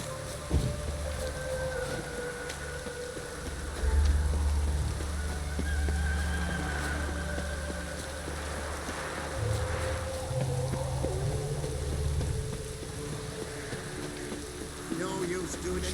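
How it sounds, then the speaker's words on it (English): Rain falls steadily in The Witcher 3: Wild Hunt, a continuous wash of patter with low rumbling ambience and faint game sounds throughout. "No use doing any work with this rain."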